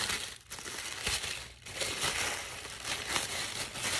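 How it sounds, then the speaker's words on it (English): Tissue paper crinkles and rustles continuously as a package is unwrapped, a close, dense crackling texture with a few sharper crunches and no talking. "Got some tissue paper."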